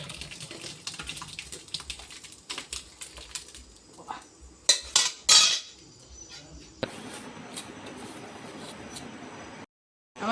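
Dishes and cutlery clink and clatter while ghugni made with goat leg is served into bowls: scattered light knocks, then a cluster of sharper metallic clinks midway, and a softer hiss afterward with no clear talk.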